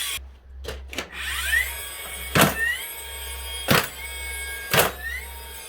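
A DeWalt nail gun trigger is fired in repeated tests on the bench, giving three sharp, loud mechanical clacks a little over a second apart, each followed by a brief whirring rattle, with a few lighter clicks at the start.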